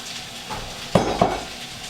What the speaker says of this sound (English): We're gonna throw our veg in.